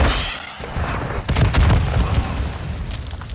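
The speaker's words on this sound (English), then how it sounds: "Going flash grenade." A flash grenade goes off in Call of Duty MW2 with a sharp blast and a rumbling tail, followed by lingering battle noise.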